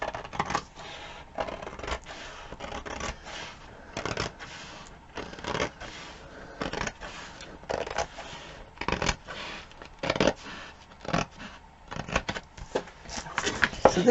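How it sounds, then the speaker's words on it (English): Repeated crisp snips and rustling of paper as scissors cut slowly along a fold, irregular bursts close up with short pauses between strokes. "I'm just going to cut very, very carefully with my scissors along the fold."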